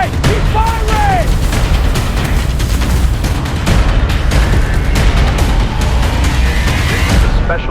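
Dense battle gunfire and explosions, continuous loud volleys and booms with whizzing ricochets filling the whole stretch.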